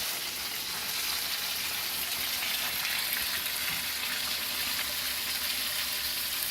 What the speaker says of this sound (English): I just want to get a little sear on it.